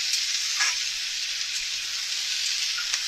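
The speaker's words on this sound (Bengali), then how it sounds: "এবার এই ঢাকনাটাকে সরিয়ে নাড়িয়ে আবার সবজিগুলোকে নাড়িয়ে দিচ্ছি" Chopped ridge gourd and other vegetables sauté in a pan with an even, loud sizzle, punctuated by a couple of brief stirring scrapes; no voices are heard.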